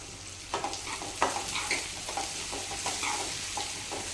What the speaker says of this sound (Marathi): आपण 2 मिनिटं परतून घ्यायचं